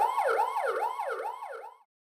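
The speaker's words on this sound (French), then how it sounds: "une touche d'urgence pour déclencher une sirène en cas d'urgence." A Pentatech EW01 electronic watchdog alarm sounds its emergency siren, a close, loud electronic wail sweeping rapidly up and down in repeated cycles before cutting off abruptly.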